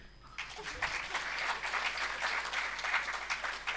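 Steady applause from a crowd, a dense wash of clapping that continues throughout with no pauses.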